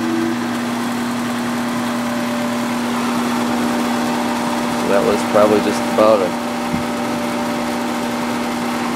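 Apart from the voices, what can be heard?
outdoor AC compressor running with slight rattle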